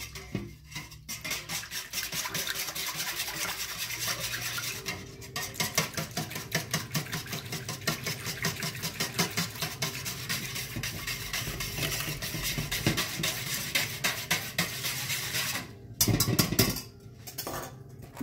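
A whisk beats pineapple juice and oil in a bowl for carrot bread batter, with rapid steady metallic clinking and scraping against the bowl that goes on nearly throughout, with a few brief pauses.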